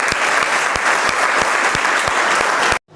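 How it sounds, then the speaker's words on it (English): Loud, dense applause from a school audience, many hands clapping steadily close by for nearly three seconds before cutting off abruptly. "So give a huge round of applause to Riya."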